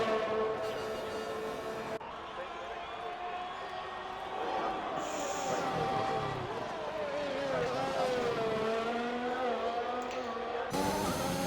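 A Formula 1 car from a racing video game on the Russia track, its engine whining steadily with rising and falling pitch sweeps as it shifts gears, heard under continuous commentary.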